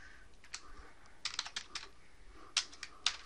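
Quiet typing of a short command on a computer keyboard in CAD software, a few scattered close keystrokes with small gaps, alone over faint background hiss.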